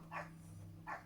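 Two faint, short dog barks roughly a second apart, heard at a distance indoors against a low steady hum, with no talk.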